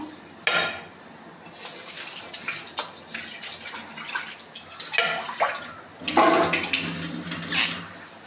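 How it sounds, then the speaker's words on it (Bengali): Water runs steadily while something is washed by hand, with close splashing and occasional clinks of dishes or utensils rising in a few louder bursts. "একটু ধুয়ে নিচ্ছি।"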